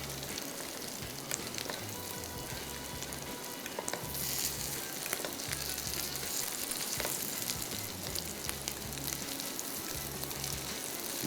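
Lucknowi galawati kebabs frying in a pan, a loud close continuous sizzle with soft crackles and occasional louder bursts as they are turned, no voices.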